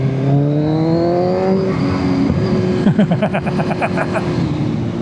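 A Kawasaki Z1000 motorcycle engine idles, then revs up under throttle in a short rising burst followed by crackling, popping exhaust pulses, loud and close.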